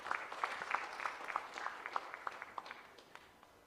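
Scattered, distinct claps from a conference audience welcoming a speaker to the floor, individual hand claps clearly separated and thinning out toward the end.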